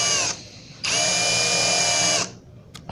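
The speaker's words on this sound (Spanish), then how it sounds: "una vez que hayan prensado y colocando un listón de sacrificio para no dañar la melamina cuando salga la broca de paleta, hacen lentamente su perforación" A power drill with a spade bit bores through melamine board backed by a sacrificial strip, in two loud, steady high-pitched whining bursts separated by a short pause, with no talk.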